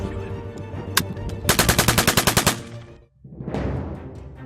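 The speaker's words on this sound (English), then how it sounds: "Those are real bombs, real bullets going downrange." Live machine gun fire on a military training range at Camp Grayling, Michigan: a loud rapid burst of about a dozen evenly spaced shots after an earlier single crack, then a heavy rumbling blast swelling up after a short lull.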